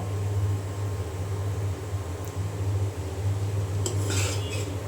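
A metal pan of fried vegetables comes off a kitchen stove: a low background hum runs throughout, then a brief cluster of metallic clanks and scrapes sounds near the end, close by.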